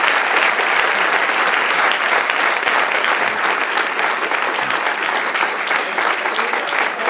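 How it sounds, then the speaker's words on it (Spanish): Sustained, dense applause fills a Spanish-language church service, a close, even wash of many hands clapping that holds steady throughout with almost no speech. "Dale un aplauso al Señor."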